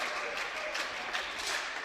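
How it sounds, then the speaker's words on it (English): Crowd at a 10-metre air rifle mixed team final of a European Championship cheers and applauds in a steady, dense wash of clapping and shouts, moderately loud with no single voice standing out. "the crowd going nuts there."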